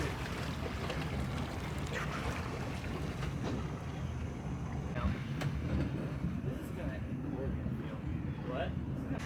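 A 1989 Sea Ray yacht cruising on a lake, its steady engine drone and water rush mixed with wind buffeting the microphone while people talk over it.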